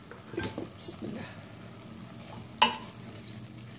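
A meat and onion mixture fries in a pot while being stirred, giving a quiet continuous sizzle with soft scraping strokes and one sharp clink of the utensil against the pot.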